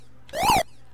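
A single short synthetic siren tone generated by a Color Computer in BASIC sweeps up and back down once, electronic and clean over a faint steady hum.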